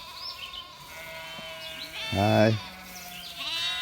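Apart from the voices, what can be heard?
sheep bleating in backyard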